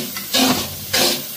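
Semolina (rava) for pineapple sheera is pushed around a hot pan, giving two close, loud scraping sweeps with a soft sizzle between them, and no voices.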